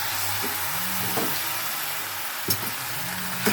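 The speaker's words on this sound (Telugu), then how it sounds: "కలిపేసుకొని చికెన్ వేసేస్తాను. ఇప్పుడు చికెన్ వేసేసుకున్నాం ఫ్రెండ్స్." Half a kilo of chicken sizzles and fries in a pan, a steady loud hiss with a few short stirring scrapes and clinks over it.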